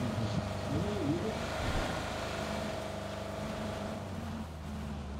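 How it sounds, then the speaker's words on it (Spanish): In a video game, a motor vehicle's engine drones continuously in the background, a low, steady rumble that wavers slightly in pitch and stays fairly faint throughout. "yo escuché un coche"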